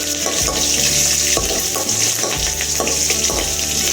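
Curry leaves and green chillies tempering in hot oil for foxtail millet pongal, a steady loud sizzle and crackle with rhythmic scraping stirs in the pan, close and continuous with no talk.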